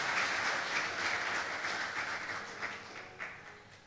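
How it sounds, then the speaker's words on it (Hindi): Steady audience applause in a religious gathering, a dense wash of many hands clapping at moderate volume that fades slightly toward the end. "जोरदार तालियां इस खुदा के लिए"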